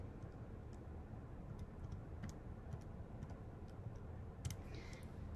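Faint, irregular plastic clicks of calculator buttons being pressed, scattered one by one against a steady low background hum, no voices.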